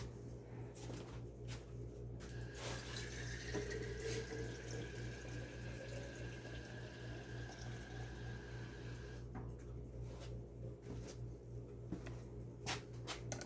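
Faucet water runs and pours into a container for a blueberry lemon infused drink, a steady splashing stream lasting several seconds with a rising fill tone, over a constant low room hum.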